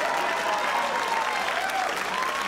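Studio audience at a live comedy talk show clapping in a loud, continuous, dense burst close to the mics, with no speech on top.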